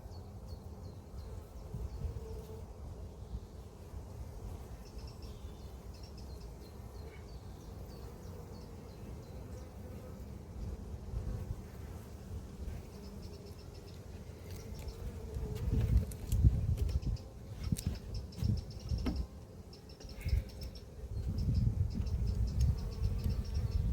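Defensive honeybees swarming around an apiary hive with solid floors, a continuous close buzzing drone with rattling bumps and rustles that grow louder toward the end.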